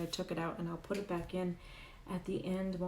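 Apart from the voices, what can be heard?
No everyday noises stand out.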